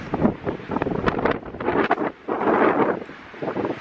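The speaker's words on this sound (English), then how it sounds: "Sure is windy." Strong wind gusts outdoors, buffeting the microphone in loud, uneven roaring bursts that swell and ease without any voices.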